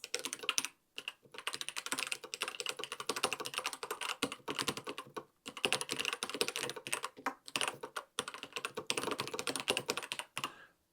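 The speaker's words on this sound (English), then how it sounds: "it's also giving you a demonstration of the sound level of the keys on the keyboard. So it's a little clickety-clackety" Rapid, continuous clicking keystrokes on an Adesso EasyTouch 1500 ergonomic mechanical keyboard, close and crisp, with a few brief pauses between bursts of typing.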